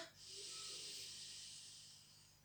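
A single long inhale through the nose during a seated stretch, a soft airy hiss close to the microphone that swells and fades over about two seconds in near silence.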